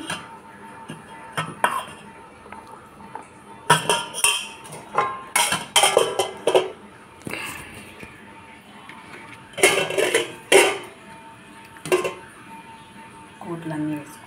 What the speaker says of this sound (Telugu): రైస్ అయితే పెట్టుకుంటున్నాను నేను ప్లేట్లోకి